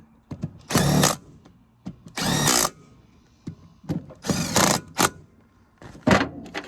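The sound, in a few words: power tool putting bolts back on a 5.3 engine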